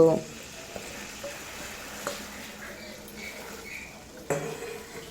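Drumstick vegetable fries in a pan, a soft steady sizzle running throughout with a few brief utensil clinks and stirring scrapes, including a sharper knock near the end.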